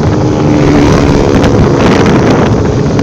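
A motorcycle engine with a slipping clutch runs steadily and loudly throughout, a continuous low rumbling drone with strong wind buffeting across the microphone and no speech.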